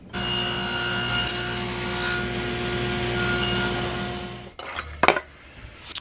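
A blade cuts a kerf through plywood, a loud steady whining drone with harmonic tones lasting about four seconds, then spinning down into a few scattered knocks and bumps.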